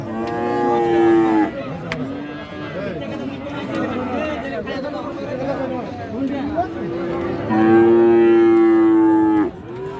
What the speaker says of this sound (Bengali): ওইভাবে নিয়ে যায় গরু